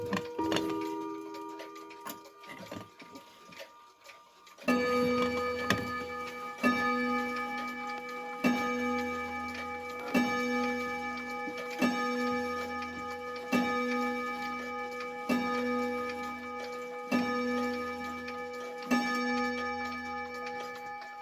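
A mechanical chiming clock ticks softly at first, then a figurine strikes a bell and a chime rod rings, and bright ringing strikes repeat at a steady pace over the continuing tick.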